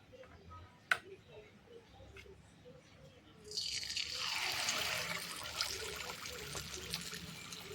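Appam batter poured into a hot oiled pan over a medium flame for ghee appam, a sudden loud bright sizzle that starts partway in and holds steady, after a quieter stretch with a sharp tap.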